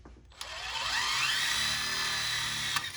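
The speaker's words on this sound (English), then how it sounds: "drilling it with a 1/4 inch impact driver" A high whining 1/4-inch impact driver with Milwaukee impact bits spins up after a short pause and runs steadily for a couple of seconds, close by, boring into metal.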